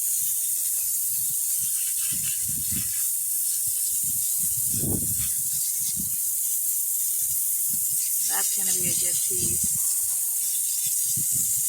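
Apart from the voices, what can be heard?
spraying water on rocks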